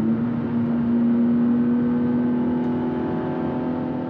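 A BMW M3 engine drones steadily at high revs from inside the car, a strong, constant tone with a buzzing edge that holds for about four seconds with no talking.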